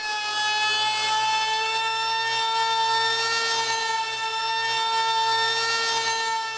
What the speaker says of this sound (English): when I get ready to run this router bit on the edge